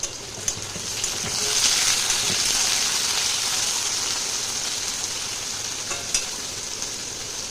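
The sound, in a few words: pumpkin pieces frying in oil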